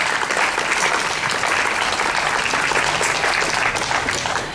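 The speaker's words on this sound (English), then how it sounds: "Let's give one more round of applause for all the graduation graduates." Sustained applause from a graduation audience in New York City, a dense, steady wash of many hands clapping at even loudness throughout, with no pauses.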